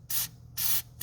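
Fluid Film aerosol sprayed onto the contacts of the original starter motor on a 2005 GM truck, three short hissing bursts in quick succession, close and fairly loud.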